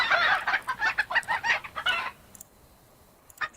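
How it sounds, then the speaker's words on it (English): Chickens cluck loudly in a Godot-built island video game, a rapid run of close, sharp clucks for about two seconds, then near quiet with a brief faint sound near the end. "Are those chickens loud or what?"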